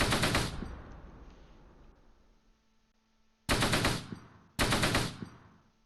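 Gunfire in the Close Combat World War II strategy game, three sharp bursts of machine-gun fire, the first decaying slowly into a long tail, then two close, loud bursts after a quiet gap.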